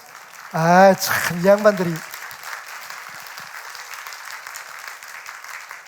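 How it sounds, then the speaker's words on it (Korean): Church audience applauding, a soft continuous wash of clapping that follows a brief spoken remark and carries on steadily to the end. "다시 한번 여러분 박수."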